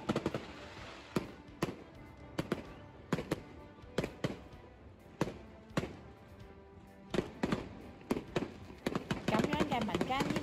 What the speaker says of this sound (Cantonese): 啲煙花超近距離咁樣喺你頭頂度爆